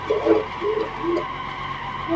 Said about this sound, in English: We're going to be drifting a little bit